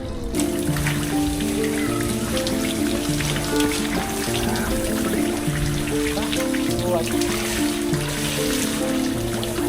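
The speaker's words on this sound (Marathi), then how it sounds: "आता जरा शॉवर घेऊया" Shower water running after a swim, a steady hiss of spray and splashing close by, with a rhythmic tonal pattern running underneath throughout.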